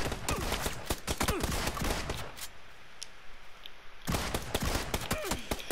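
Rapid shotgun fire in an online shooter game rings out in loud, dense bursts of overlapping blasts, drops off briefly in the middle, then picks back up with the same heavy volley.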